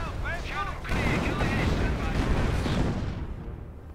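Artillery fire booms in the Company of Heroes video game, a dense spell of heavy rumbling blasts with whistling, crackling layers that fade out toward the end.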